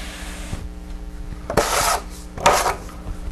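A trowel skimming drywall mud off a textured wall, quiet scraping punctuated by two louder, longer rasping strokes close by, with no talk.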